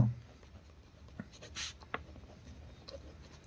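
A pen writes on paper, giving quiet, scattered scratches and short strokes close by with pauses between them, faint and alone.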